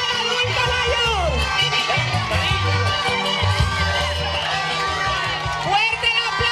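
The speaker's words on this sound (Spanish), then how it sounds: "Fuerte el aplauso a nuestra nueva reina." An audience at a senior citizens' program in Riosucio cheers and shouts for a newly crowned queen, a loud continuous crowd roar with whoops, mixed with an amplified voice speaking over it.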